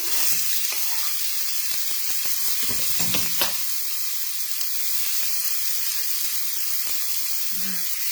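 Thin slices of food for a high-protein breakfast hitting a hot pan, giving a constant bright hiss of sizzling with scattered clicks and light clatter of a utensil near the start, close and steady.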